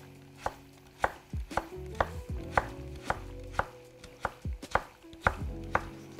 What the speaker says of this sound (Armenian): Ահա, լավ բարակ շերտերի ենք կտրատում կարտոֆիլը